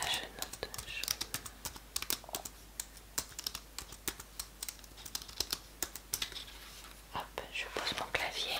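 Rapid, irregular clicks of a computer keyboard being typed on close up, with soft whispering in French alongside the keystrokes in a quiet room.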